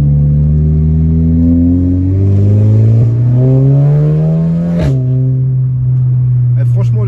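Audi S3 engine revving hard and close, its droning tone climbing steadily in pitch before dropping sharply and settling into a lower steady hum, loud and dominant.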